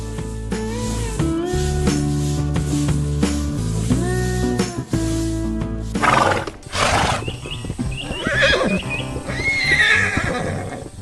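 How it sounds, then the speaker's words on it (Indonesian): Cartoon horses neigh and whinny over a bright musical score, followed by brief bursts of galloping hooves and more calls in an animated farm scene. "Lihatlah, kuda-kuda yang lucu sedang bermain di tengah lapangan hijau, berlarian dengan ceria di hari yang cerah."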